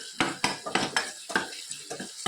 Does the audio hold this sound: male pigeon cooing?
no